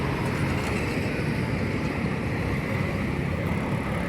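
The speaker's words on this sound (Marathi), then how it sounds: "हा आला आपली ट्रेन, सेंट्रल रेल्वे." A Central Railway train passes near a station in a Mumbai-area residential colony, giving a steady, loud, continuous rumble with no breaks or voices.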